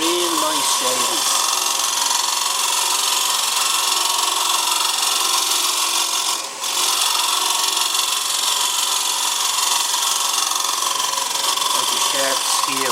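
A wood lathe spins a dry, rough-turned bowl blank while a sharp skew chisel cleans up torn grain, giving a steady, loud, broadband whirring hiss with a brief dip midway, and a voice talks over it.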